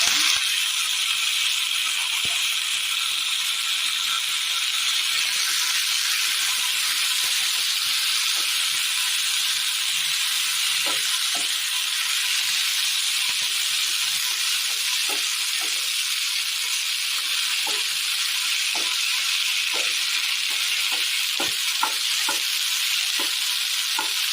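Vegetables frying in a pan for a spicy ginger vegetable dish give a steady, loud sizzle and hiss throughout, with occasional light stirring clicks and rattles and no voices.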